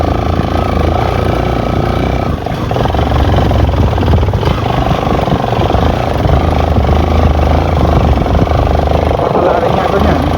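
A Yamaha FZS V2 motorcycle exhaust roars steadily and loudly up close with a continuous, rumbling engine drone that barely changes throughout.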